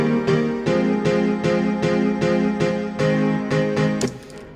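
Steady piano chords repeat in an even rhythm, mid-range and bright with no deep bass, played close and clear.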